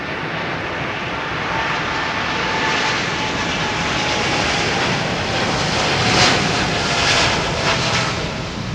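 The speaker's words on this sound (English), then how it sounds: "Big spool up for a Dreamliner." A Boeing 787 Dreamliner's jet engines spool up for takeoff at London Heathrow runway 27R, a loud, continuous broadband roar that swells slightly and holds steady throughout, with no other sound.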